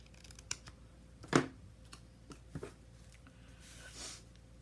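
Scissors snip through fabric binding on an antique lace and roses quilt, a few quiet, sharp clicks and one crisp cut, close by in a hushed room.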